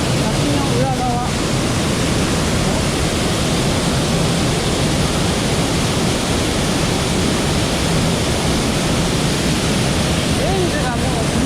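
Loud, steady roar of rushing water from very close by, heard from behind Nabegadaki waterfall, a dense continuous broadband wash with no pauses, like standing right beside a heavy waterfall.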